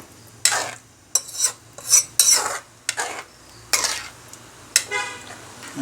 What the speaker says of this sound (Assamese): এতিয়া ভালদৰে লৰাই লৈ ঢাকনাখন দি উতলাই থাকিব লাগিব